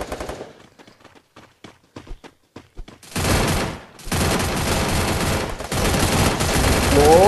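Rapid automatic gunfire from the battle royale game Free Fire: scattered sharp shots for the first three seconds, then a dense, loud, continuous burst of sustained firing that carries on to the end.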